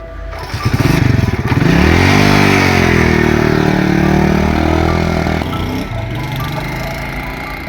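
A scooter engine runs loud and close in a rural Punjabi setting, rising in pitch as it revs up, then holding a steady drone before easing off near the end.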